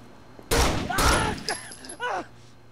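A burst of gunfire in the Rainbow Six Vegas video game: two loud close shots or short volleys followed by smaller bursts, with voices shouting amid the shooting.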